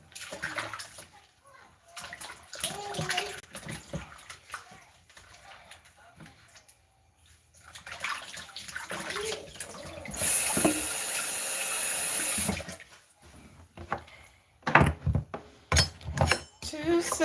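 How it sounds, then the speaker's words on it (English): Tap water runs steadily into a kitchen sink while a pumpkin is washed under it, a continuous rushing spray lasting a few seconds between stretches of someone talking and clattering handling sounds. "Alright, I have properly washed it."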